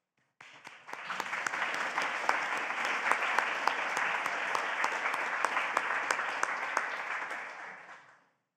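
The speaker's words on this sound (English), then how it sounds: "I would like to applaud the researchers and the staff in the room that have made this possible." Sustained audience applause at an academic symposium, a dense wash of many hands clapping in a room that swells in quickly, holds steady for several seconds, then tapers off.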